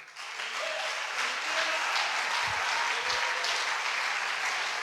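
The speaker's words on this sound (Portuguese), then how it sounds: "Vocês podem aplaudir ao Senhor por isso." Church congregation applauding during a fourth-anniversary service, a steady, fairly distant wash of clapping that swells in after a moment and holds evenly, with a couple of low thumps partway through.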